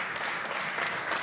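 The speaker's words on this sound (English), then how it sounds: "Can I have a round applause for Madhur?" An audience at a talk session gives a brief, steady round of applause to welcome the next speaker, a continuous even patter of many hands without any voices.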